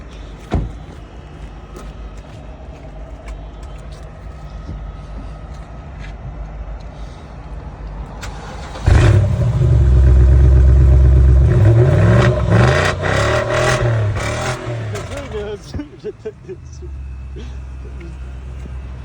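A car engine idles quietly, then turns over and roars into loud revving that settles back to a lower rumble, with some clatter and movement around it.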